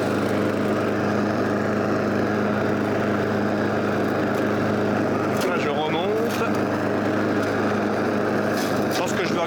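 A lawn mower engine hums steadily and loudly up close, its drone unbroken, with a brief rattling change midway as it cuts through small dead branches.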